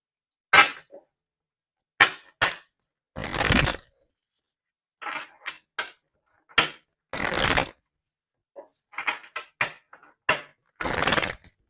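Tarot cards are shuffled and cut in repeated bursts: short riffling rasps and sharp snaps separated by silences, close and fairly loud, with no talking.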